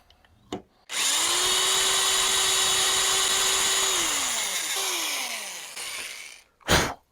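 An electric drill bores out the rusted-in jaw holes of a Wilton bullet vise, spinning up sharply and holding a steady loud whine for about three seconds before slowing, with a brief restart and a sigh-like breath at the end.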